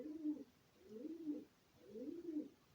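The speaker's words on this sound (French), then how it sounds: "Ah oui, il roucoule bien." A pigeon coos from the roof overhead in three rounded, throaty phrases with short pauses between them, soft and fairly close, over quiet background hiss.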